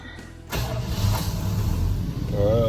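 A 1986 Dodge D150 Royal SE pickup with a freshly rebuilt transmission cranks briefly and fires, settling into a steady, loud, close idle with a faint rising whine near the end.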